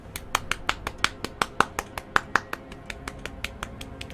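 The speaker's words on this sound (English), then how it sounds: "Let us give a round of applause." A small group of tabletop role-playing game players claps sparsely, giving about twenty sharp, separate claps in an uneven rhythm that thin out toward the end.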